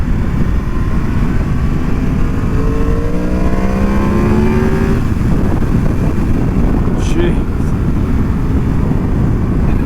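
A 2025 Yamaha MT-10 motorcycle accelerates on the road, its engine note climbing through rising pitch sweeps over heavy wind roar, then fading as the rush of air continues.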